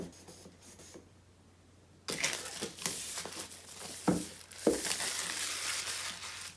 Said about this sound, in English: we'll grab the knife here and let's cut through this